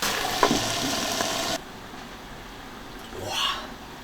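Swimming crab with chopped chilli, ginger and scallion in a wok: a loud, close, crackling sizzle cuts abruptly to a muffled low simmer once covered, with a brief rising scrape near the end.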